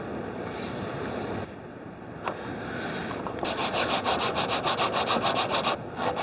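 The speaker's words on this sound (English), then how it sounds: "Now, we cut the dowels." Handsaw cutting through wooden dowels in a hallway closet build, heard up close as steady rasping strokes that turn into a quick, even back-and-forth rhythm for the last few seconds.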